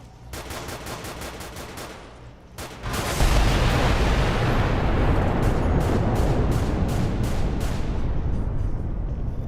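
In Fallout: New Vegas, rapid pulsing shots lead into a loud, sustained roaring rocket-launcher blast with a deep rumble that holds steady, then more rapid pulses return faintly.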